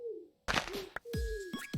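A bird in modded Minecraft gives several short cooing, swooping calls, fairly close and clear with brief gaps between them.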